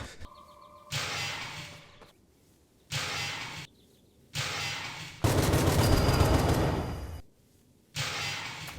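Machine gun fire in the Roblox game 7 Days To Live: repeated loud automatic bursts of about a second each with short gaps, then one longer two-second burst, no talking.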